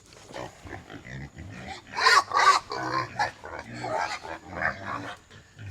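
Pigs grunt and snort in a series of close, rough bursts in muddy woods, a few louder squeals in the middle, with faint movement around them.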